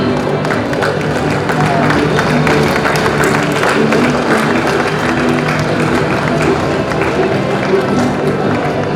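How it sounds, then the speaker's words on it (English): A large crowd at a school festival event applauds and cheers in a dense, sustained roar of clapping, loud and continuous throughout. "Let us give a huge round of applause."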